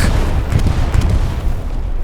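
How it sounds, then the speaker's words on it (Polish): Heavy booming video-game explosions in Hell Let Loose rumble in quick succession, loud and dense, with several sharp bursts layered over a low roar. "Wybuchy."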